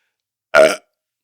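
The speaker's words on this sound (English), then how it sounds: "I didn't mean to lean into the mic as I burped" A single loud, close burp straight into a microphone after drinking Red Bull, short and throaty, lasting about a quarter second amid silence.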